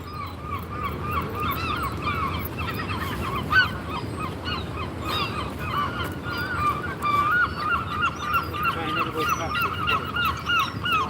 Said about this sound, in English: All them birds.